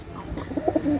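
Imported-bloodline pigeons give a brief, close, soft throaty coo, a few rolling low notes rising and falling over about a second.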